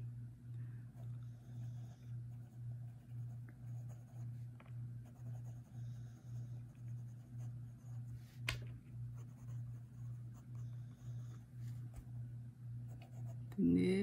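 Leonardo Momento Magico fountain pen with an extra fine stainless steel nib writing on paper, faint soft scratching strokes over a steady low background hum, with a brief click partway through.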